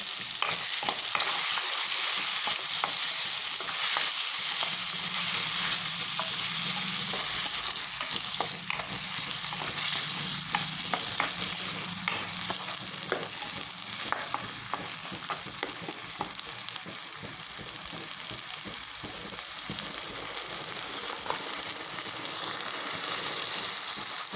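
Masala paneer curry frying in a pan gives a loud, continuous sizzle with constant stirring scrapes throughout, no talking.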